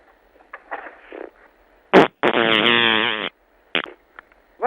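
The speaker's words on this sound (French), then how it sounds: "La grenouille a pété." A prank toy frog lets out fart noises: a short sharp burst, then a long raspy, buzzing blast lasting about a second, framed by a few brief squeaky puffs, loud and close with no talking.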